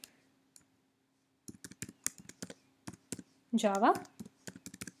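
Keys clack in a quick burst of separate taps while a class name is typed on a computer keyboard, with someone talking over the typing.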